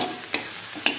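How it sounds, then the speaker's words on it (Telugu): Amaranth leaves fry in a hot tempering with curry leaves, green chillies, fenugreek and mustard seeds, giving a steady close sizzle broken by two quick stirring scrapes. "చూసారా తోటకూర ఎంత బాగా ఫ్రై అయిందో"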